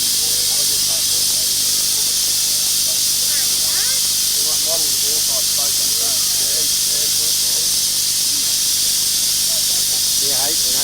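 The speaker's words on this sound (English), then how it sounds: "He's in the steam boat." Steam vessel at a steam rally in Narara, Gosford, giving off a steady broadband hiss that runs continuously through the clip, with people talking nearby throughout.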